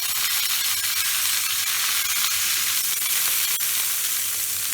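Nigella seeds and green chillies sizzle in hot oil, a loud, continuous hissing crackle that holds evenly from start to finish with no talking.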